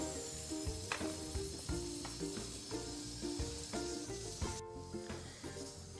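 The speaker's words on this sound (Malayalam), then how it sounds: "ഇതുപോലെ ഇങ്ങനെ ഷൂ ഷൂ ഷൂ എന്ന് പറഞ്ഞിട്ടുള്ള ശബ്ദം ഉണ്ടായി ഇങ്ങനെ നിൽക്കേ ഉള്ളൂ 1/2 മണിക്കൂറും." A pressure cooker on a low gas flame, cooking milk payasam, lets out a steady breathy hiss that pulses softly, with faint tonal ringing beneath it.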